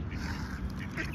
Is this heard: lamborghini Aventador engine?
no